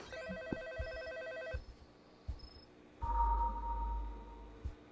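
A telephone rings inside a horror video game set in a creepy map with a killer clown, giving a faint electronic tonal ring that repeats and then gives way to a low droning hum, with no talking.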